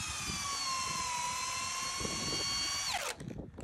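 A premium drill driver spins under heavy load, driving a 12-inch GRK screw through 6x6 cedar without a pilot hole, a loud, steady high whine that winds down abruptly near the end, followed by faint clatter.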